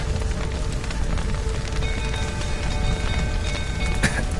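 Steady rain falling in The Witcher 3 video game, a dense continuous hiss of drops with a few faint tonal game sounds and a sharp crack near the end.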